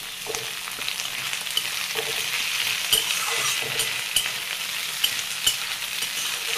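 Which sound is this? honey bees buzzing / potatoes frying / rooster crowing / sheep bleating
potatoes frying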